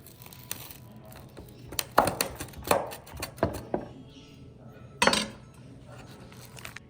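A knife cuts a breakfast quesadilla on a plate at home, giving several scattered clinks and scrapes of metal on the dish. The sounds come close and moderately loud, with quiet gaps between them.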